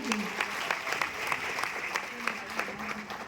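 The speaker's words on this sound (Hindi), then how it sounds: "एक बार जोरदार ताली होनी चाहिए दोस्तों।" An audience at a program applauds, brief steady clapping with distinct sharp claps standing out, fairly close and moderately loud, with faint voices underneath.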